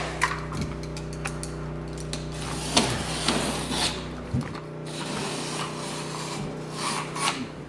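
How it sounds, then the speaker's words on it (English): A knife cuts drywall tape along the wall edges and top of a sheetrock install, giving a continuous scraping, rasping sound with scattered sharper scratches over a steady background hum. "we're going to go ahead and cut the tape all the way around on all three sides, the two sides and the top"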